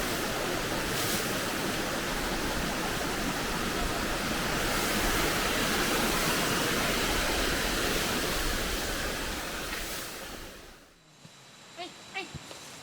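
A forest river flows where elephants come down to the water. Loud, dense rushing water fills the scene close by for about eleven seconds, then drops away sharply, leaving a few faint scattered sounds.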